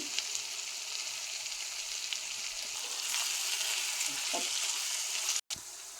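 Brinjal curry with chili powder fries in a pan, giving a steady broadband sizzle with occasional stirring scrapes and a brief dropout near the end.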